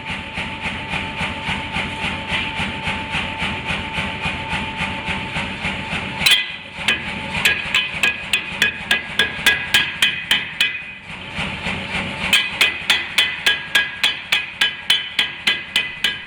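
A hammer beats steady, rhythmic blows on a steel bar as a blacksmith draws it out with a forging tool. After a steady stretch come two brief pauses, then sharper, ringing strikes resume at a quick, even pace.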